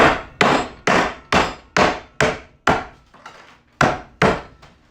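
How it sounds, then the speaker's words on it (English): A wooden mallet strikes ice wrapped in a canvas Lewis bag, landing about ten loud, evenly spaced whacks, each a sharp crunchy thud, to crush ice for a mint julep. "give it some nice whacks, and we get some nice crushed ice"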